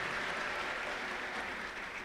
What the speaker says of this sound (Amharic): እስቲ አጨብጭቡላት።